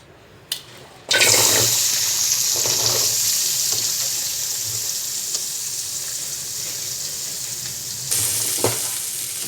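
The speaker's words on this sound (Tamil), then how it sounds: "இது எல்லாமே போட்டு நான் வதக்கிக்க போகிறேன்." Ginger, onion, garlic, cloves and cardamom hit a hot pan for mutton kulambu, setting off a loud, steady hissing sizzle after a brief clatter, with a few stirring scrapes underneath and no talking.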